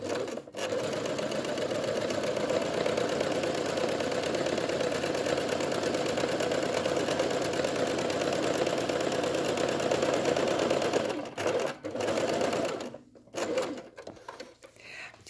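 A sewing machine runs a continuous hem stitch in contrasting thread, a loud, steady mechanical whir heard close up. It breaks into short stops and restarts near the end.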